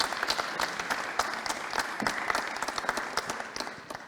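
Steady audience applause fills the room at a French evening event on seafarers' solidarity, dense and continuous with sharp individual claps standing out, no speech.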